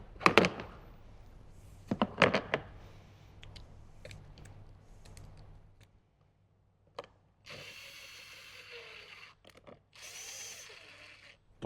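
Power drill driving screws into a speaker grille in a 2015–2018 Jeep JK Wrangler, with short loud bursts near the start, then quieter clicks and some handling noise later on.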